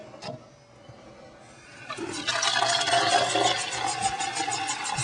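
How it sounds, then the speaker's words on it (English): Tap water runs into a cup holding a hydrogen peroxide and rubbing alcohol mixture for treating a dog's hot spots, a steady rushing pour that starts quietly and swells louder and fuller midway, with no talking. "So I just take that and I fill it up with water."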